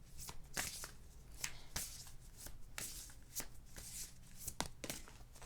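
Oracle cards are shuffled and drawn by hand in a quiet room, the crisp riffling and slapping arriving in short repeated bursts with soft pauses between.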